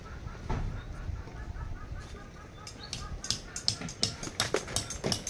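Ducks at a small home mini garden give a run of short, repeated clucking quacks close by, growing busier and more rhythmic toward the end over a low outdoor background.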